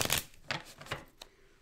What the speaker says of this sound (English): let me just get a good shuffle